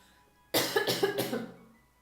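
A person coughs three times in quick succession, close and fairly loud, after a moment of near silence.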